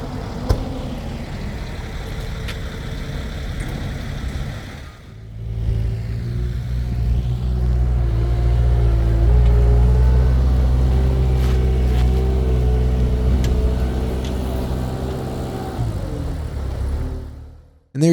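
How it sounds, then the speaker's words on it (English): A semi truck arrives carrying a center block, its heavy diesel engine rumbling loud and close for several seconds with a deep low drone and shifting tones as it works, then cutting off near the end. "center block showing up on the semi truck right now."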